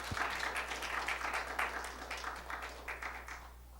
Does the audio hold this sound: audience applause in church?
yes